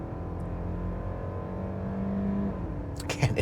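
Mercedes-Benz GLE 450e plug-in hybrid SUV with a four-cylinder engine accelerating, a steady droning engine note heard from inside the cabin, followed by a short burst of speech at the end.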